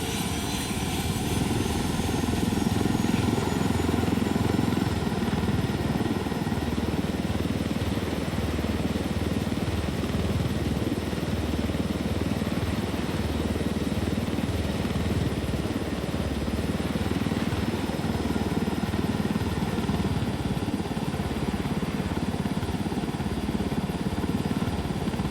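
A helicopter engine in the video game Ghost Recon Wildlands drones loud and close, a steady whining turbine hum over a churning rotor rumble that holds constant without pause.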